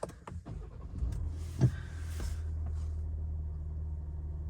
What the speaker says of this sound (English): Let's start the car up again.